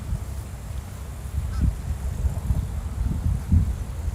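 A goose honks faintly a few times from down by a river under a bridge, brief calls scattered over a steady blanket of wind and low traffic-like rumble.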